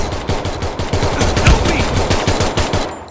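Rapid automatic gunfire in the mobile game Free Fire, a loud close burst of evenly spaced shots rattling continuously for about three seconds.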